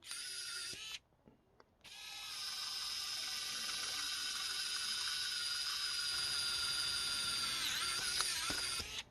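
A small Xcool electric precision drill whines at a steady high pitch, cutting out briefly after the start, then running continuously up close.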